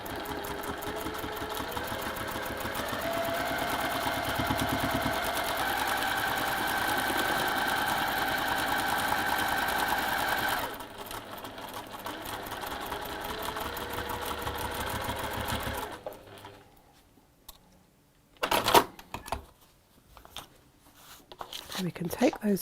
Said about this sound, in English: I'm going to sew along that line between A6, D5 and E7.